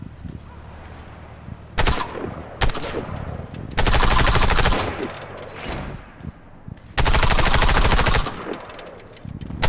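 Automatic weapon fire at a practice target in the shooter game Warface, with several loud, sustained bursts of rapid shots separated by short pauses and quieter gaps.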